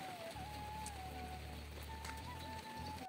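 Steady rain falling outdoors in a Himalayan hill setting, a soft continuous hiss spread evenly through the whole stretch with a low steady drone underneath and no talking.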